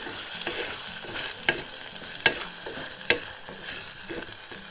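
Chunked tomatoes stirred and broken up with a spatula in a pan for homemade pizza sauce, soft sizzling under repeated scraping strokes with a few sharp clacks of the spatula against the pan, close and fairly quiet.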